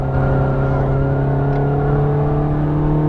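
A Ferrari F430 Scuderia on the Las Vegas Motor Speedway track, its engine droning loud and steady with a strong low hum and a slight rise in pitch, heard close from inside the car.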